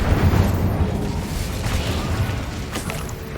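The Incendio fire spell in the video game Hogwarts Legacy bursts out as a loud, steady roaring whoosh that fills the whole moment without speech.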